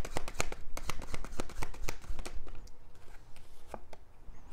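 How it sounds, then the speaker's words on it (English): Playing cards are shuffled briskly, a rapid run of crisp riffling clicks close by, pausing briefly before a few more snaps. "Y'all heard me shuffling the fuck out these cards"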